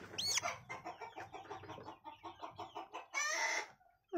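A hen recovering from coryza clucks in a rapid, steady series of close calls, ending in a louder, drawn-out squawk.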